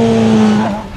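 A V6 Formula 1 car gives a brief, loud, steady engine note that shifts slightly in pitch near the end, heard alone.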